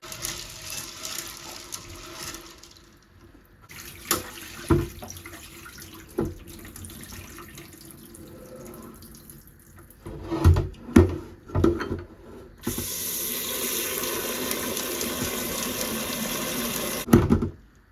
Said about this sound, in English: Top up some water and further wash them and tip the water.